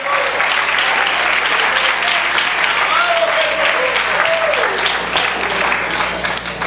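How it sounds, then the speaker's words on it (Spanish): A church congregation claps loudly and steadily throughout a worship service, a sustained burst of applause with voices faintly mixed in. "Dele un fuerte aplauso al Señor."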